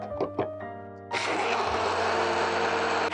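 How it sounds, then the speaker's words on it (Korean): After a few brief clicks, a blender roars to life and grinds steadily at full speed, loud and close, with no talking. "믹서기로 갈아주시면 돼요."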